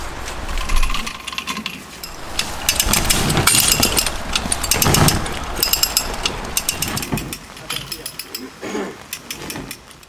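A come-along ratchet being worked to drag a heavy shed, giving repeated clicking and clattering strokes in uneven bursts, with voices talking now and then over the mechanical noise.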